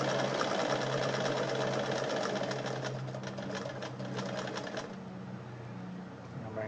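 A Bernina 817 sewing machine stitches a maximum-width zigzag at stitch length 4, making a steady rapid mechanical chatter up close that eases slightly toward the end.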